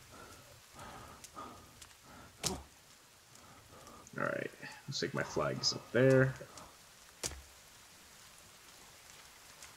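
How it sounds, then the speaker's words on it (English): Steady rain falling in the video game The Forest, a soft continuous patter under a man's speech, with some louder in-game rustles and thumps midway. "it's raining."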